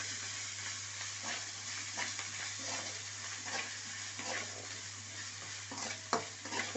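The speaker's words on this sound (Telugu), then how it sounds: "అల్లం వెల్లుల్లి పేస్ట్ కొంచెం పచ్చివాసన పోయే సేపు వేసుకుంటాం." Ginger garlic paste frying in hot oil in a pan for a vada curry, giving a steady close sizzle with repeated soft scraping stir strokes and a low constant hum beneath.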